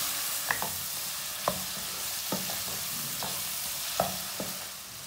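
Beef korma with garlic and ginger powder being stirred in a pan, with soft steady sizzling under a handful of spaced scraping strokes, close and fairly quiet, with no voices.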